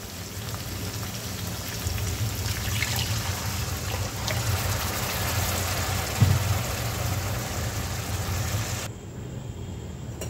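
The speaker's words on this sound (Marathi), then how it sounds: "पाणी टाकून द्यायचं आहे." Continuous splashing of water poured into a hot pan of dal kanda, a steady rushing stream lasting several seconds before tapering off.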